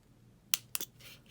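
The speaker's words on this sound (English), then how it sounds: "I'm just gonna trim it with my scissors just to kind of get it out of there." A pair of crisp scissor snips trims the edge of a paper scalloped-punch rosette, two sharp cuts close together followed by a softer rustle, close and clear with no talking.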